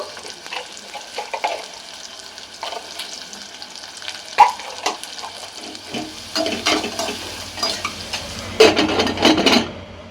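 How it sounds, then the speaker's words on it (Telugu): Sliced onions with turmeric and salt fry in tempering oil, giving a soft sizzle with spoon stirs and pan clatter that grow louder and busier toward the end. "తాలింపులో ఉల్లిపాయలు కొంచెం సేపు మగ్గనివ్వాలండి"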